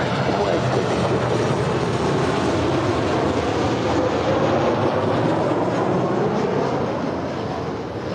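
A Southwest Boeing 737-800 jet arriving at LAX from Denver, a loud, steady, broadband engine roar that holds throughout and eases slightly at the end.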